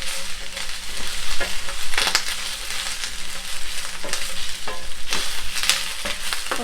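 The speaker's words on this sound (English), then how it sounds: "Just give it a toss in high flame. Just 2 to 3 minutes of stir fry will do." Baby corn stir-fried over a high flame gives a loud, continuous sizzle, broken by rhythmic tossing and scraping strokes in the pan with a faint steady hum beneath.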